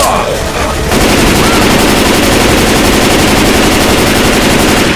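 Rapid automatic gunfire in Left 4 Dead 2 breaks out after a brief lull and keeps up as a loud, continuous close-range volley.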